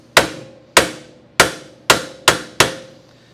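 A hammer taps sheet metal six times in an even rhythm, each strike a loud, sharp crack with a short ringing decay, close by and without any talking.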